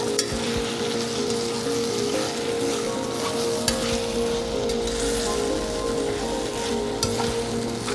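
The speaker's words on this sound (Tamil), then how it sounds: "நல்லா ஃப்ரை பண்ணுங்கள்." Marinated chicken for biryani fries in hot oil in a pan, giving a continuous loud sizzle and crackle with occasional stirring scrapes, close up and without talk.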